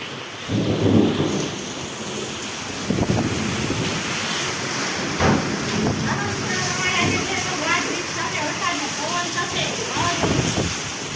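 Heavy rain pours down on a village with a steady broadband hiss, broken by deep rolls of thunder near the start and again around the middle. Faint voices can be made out under the downpour.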